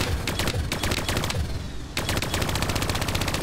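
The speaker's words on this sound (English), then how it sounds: "Where is this guy shooting me from?" Rapid automatic gunfire from the video game Call of Duty: Black Ops III rattles in two dense bursts separated by a brief pause, loud and close with no talk over it.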